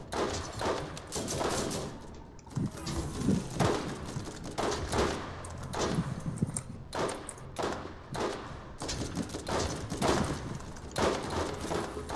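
Gunfire from the shooter video game Borderlands: dense, continuous bursts of shots and thuds in rapid, uneven clusters, loud and close throughout with no pauses.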